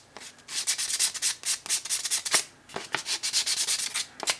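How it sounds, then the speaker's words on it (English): Fine 400-grit sandpaper lightly rubbed over a hardwood hex wrench handle, quick rhythmic scratchy strokes in short bursts, close and clear. "real light sand all over. To clean it up."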